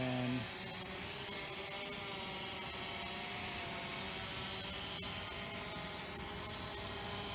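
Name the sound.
Eachine 520S drone flying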